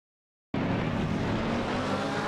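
Race cars, a BMW M4 on pole among them, launching at a race start: a loud, dense engine roar that bursts in suddenly after half a second of silence and holds steady, close and uninterrupted.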